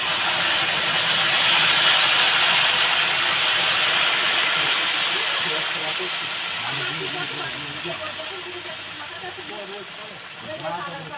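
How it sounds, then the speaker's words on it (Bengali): Water poured into a hot pan while cooking a cauliflower and fish curry gives a loud, broad steam hiss that starts strong and slowly fades over several seconds, with a voice faintly audible beneath it toward the end. "এবার কিন্তু জল দিয়ে দিচ্ছি।"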